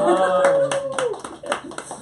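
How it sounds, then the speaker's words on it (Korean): An audience at a Korean church-themed talk show breaks into scattered clapping, with a voice continuing over the claps throughout. "박수 한번 할까요?"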